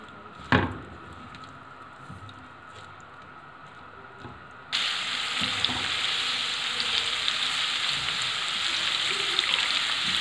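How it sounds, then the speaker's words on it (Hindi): Onions frying in oil in a pan for an egg-onion curry, a steady bright sizzle that jumps louder midway as more heat or oil takes hold, with a sharp clatter near the start and no talking. "और ये प्याज चली गई। अब इसको प्याज को हम ब्राउन कर लेंगे, डार्क ब्राउन नहीं, मीडियम ब्राउन।"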